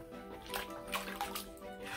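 Bath water splashes and rinses bubbles off toy ponies in a tub, a steady wet wash with a few brighter drips and sloshes, close and moderately loud, with no talking.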